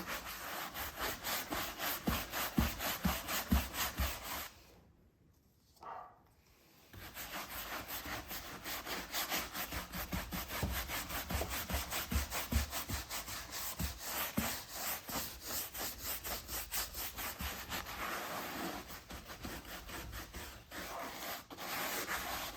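Rubbing wax into milk-painted fabric produces a steady, close, rhythmic brushing and scrubbing sound that pauses briefly near the start before continuing evenly to the end.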